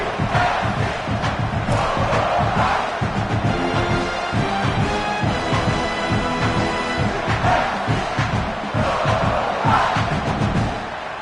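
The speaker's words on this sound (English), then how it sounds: "This crowd trying to make life miserable for this offense." A football stadium crowd roars loudly and continuously, a dense wall of cheering and shouting that swells and dips but never stops.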